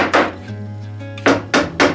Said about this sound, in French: Ensuite avec un marteau, on va venir simplement